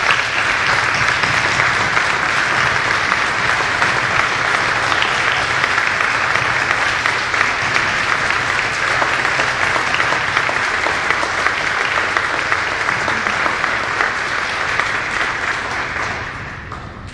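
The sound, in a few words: applause for service members and veterans at ceremony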